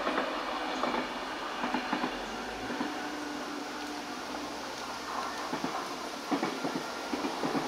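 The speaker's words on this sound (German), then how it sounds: "Und wieder habe ich einen Zug verpasst. Ihr hört ihn und ihr seht ein kleines Stück von ihm." A train passes out of view beyond a mixed forest path, a steady distant rumble with faint clickety-clack of wheels on rails that continues throughout, no voices.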